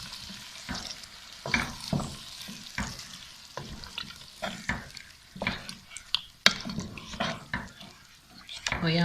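Biryani masala fries in a pan while a spoon stirs it, soft continuous sizzling broken by frequent sharp scrapes and clinks of the utensil against the pan, close and fairly quiet.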